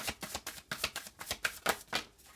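Tarot cards are shuffled by hand in quick, rhythmic riffles, about nine crisp bursts close up, with no voices.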